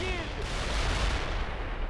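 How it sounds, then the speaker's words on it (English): Artillery fire rumbles through a World in Conflict: Soviet Assault battle as a dense, sustained wash of distant explosions and gunfire, with a brief whistling tone near the start. "May as well try and kill this guy with artillery here."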